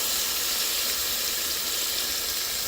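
Beef or meat browning in a pot for Hoosier-style chili gives a steady, loud, broadband sizzle that holds without a break, with no voices over it.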